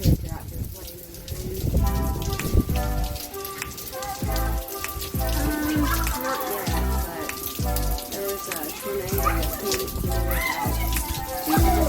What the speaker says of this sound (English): They're having a water fight in the rain.